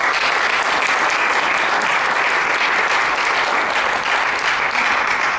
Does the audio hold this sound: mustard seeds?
no